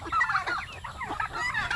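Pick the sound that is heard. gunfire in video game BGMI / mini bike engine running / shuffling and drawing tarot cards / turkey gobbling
turkey gobbling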